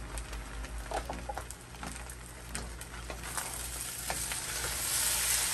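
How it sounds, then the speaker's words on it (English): Shrimp seafood fried rice is stir-fried in a hot pan, a dense continuous sizzle broken by repeated scraping and tossing strokes, close and unaccompanied by speech. "let's fold our shrimp around with this rice"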